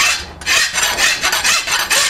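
A steel horseshoe, already forged, is filed by hand with a coarse rasp: loud, close scraping strokes repeat in a steady back-and-forth rhythm, about four strokes in two seconds, with no voices.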